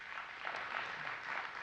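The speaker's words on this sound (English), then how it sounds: "So give yourselves a round of applause for that." Graduates at the Leadership Mountain View 2017 graduation ceremony applaud, a faint, steady patter of many hands clapping at a distance for under two seconds.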